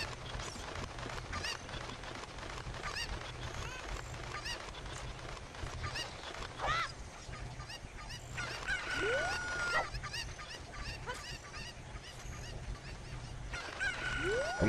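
Chickens cluck and squawk in Zelda: Ocarina of Time, a busy flurry of clucks and honking calls with several rising squawks, fairly loud and continuous over game background noise.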